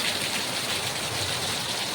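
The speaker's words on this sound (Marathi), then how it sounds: "हा पावसाचा जोर खतरनाक आहे" Steady, dense roar of heavy rain pouring down, loud and continuous with no pauses and no voices.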